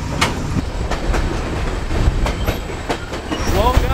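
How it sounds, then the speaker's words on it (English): El Chepe passenger train rolling along its rails in Mexico's Copper Canyon route, with a steady loud rumble and rhythmic clickety-clack of wheels over rail joints, plus occasional faint squeals near the end. "we finally made it onto the train"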